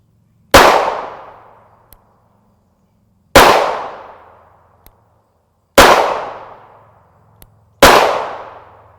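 Four sharp, loud gunshots from a compact 3-inch 9mm pistol firing Winchester M1152 ammunition ring out at an uneven pace, each with a quick, sharp crack and a short decaying echo.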